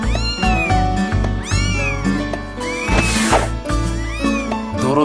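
Cats meow loudly and repeatedly in the video game Little Busters during its kitty baseball scene, with bright, drawn-out cries over a busy game soundtrack.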